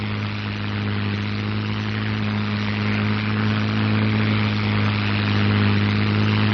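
A P-51B Mustang fighter's piston engine roars at takeoff power: a loud, steady, unbroken drone with a deep hum, heard alone without talk.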